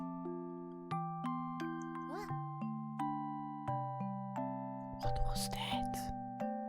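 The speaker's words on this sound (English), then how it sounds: "You reach out your hand to ring the doorbell" A doorbell chimes repeatedly in a steady sequence of bright two-tone dings, each ringing out and decaying, with a brief burst of noise and faint voices partway through.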